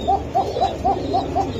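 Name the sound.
pigeons cooing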